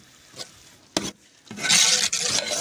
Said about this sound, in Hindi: अब चिकन को फ्राई करते हैं।